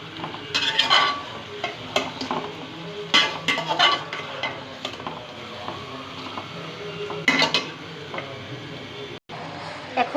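Whole spices (star anise, cardamom, cloves, peppercorns) frying in a pan for a country chicken curry, a low sizzle under repeated scraping and clinking of a spoon as they are stirred in bursts.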